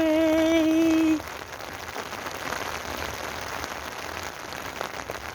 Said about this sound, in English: Walking in the street in a rainy day.